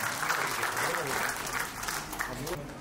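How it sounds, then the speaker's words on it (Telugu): An audience at a public gathering applauds Vidya Kumar with steady, sustained clapping that fills the whole stretch, while a voice talks over the noise. "మనము అతని విద్యాకుమార్ గారిని చప్పట్లతో అభినందించాలని నేను కోరుతాను"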